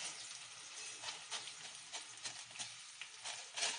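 Soaked pulao rice frying in a pan for paneer pulao, a soft continuous sizzle with light scraping stirs, faint and close.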